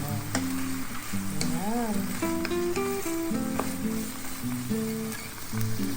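Green beans hit a hot pan and sizzle continuously in a home kitchen in Germany, a bright frying hiss with some tonal sounds running over it.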